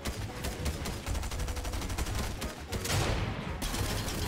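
Rapid bursts of gunfire in a Fortnite match, dense continuous automatic shots for a few seconds, loud and close, with a brief swell of firing near the end.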